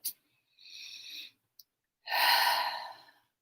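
Slow, deep breaths drawn in and let out, a soft airy inhale followed by a longer, louder exhale, close and alone in a quiet room.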